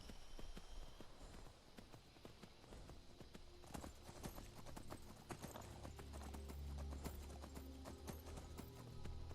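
Horse hooves clip-clop in the Skyrim video game, a quick, steady run of hoof strikes on a stone path, close and clear, with a faint low rumble underneath and no talking.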